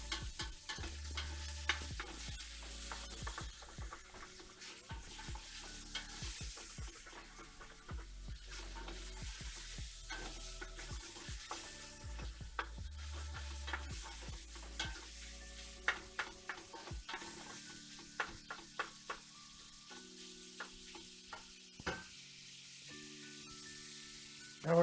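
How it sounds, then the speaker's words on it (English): Baked ziti mixture being stirred in a pan, with a steady scraping, sizzling texture and irregular clinks of the utensil against the pan throughout, no talk. "Now I just want to mix this up."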